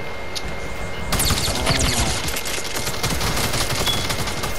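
Video game gunfire bursts in after a quiet moment: rapid, loud automatic shots rattle close by in a continuous volley, with no talk over it.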